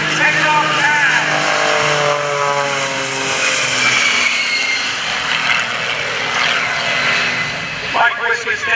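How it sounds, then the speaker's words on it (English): At an airshow, Mike Wiskus's aircraft and Paul Stender's jet-powered school bus roll for takeoff, a loud sweeping engine roar with shifting propeller and jet tones that swells and fades, with an announcer talking over it. "Here we go on the takeoff roll."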